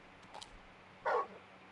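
Dog barking in the Final Fantasy XVI video game, two short barks, the second louder and closer, over a quiet ambient background.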